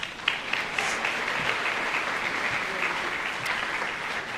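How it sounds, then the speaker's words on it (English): A concert audience at a middle school band spring concert gives steady, sustained applause for the administrators, a dense wash of clapping held at even strength throughout. "so a round of applause for them"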